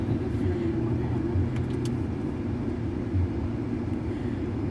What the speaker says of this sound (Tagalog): Grabe po ang traffic.